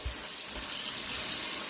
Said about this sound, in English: Now we're going to put cold water in.